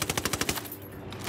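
Rapid machine gun fire in Ghost Recon Wildlands, a loud close burst of about eight evenly spaced shots that then stops abruptly.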